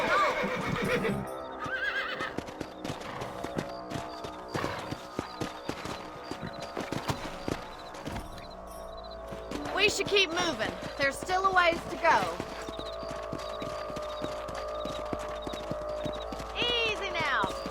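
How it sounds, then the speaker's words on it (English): Horses neigh and whinny with clip-clopping hooves in the Western video game Red Dead Redemption, several whinnies rising over steady hoof steps while characters talk throughout. "Let's get back on the horses"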